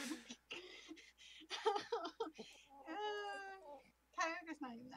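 A cat meows in a few drawn-out, wavering calls indoors, mixed in among people talking and laughing nearby.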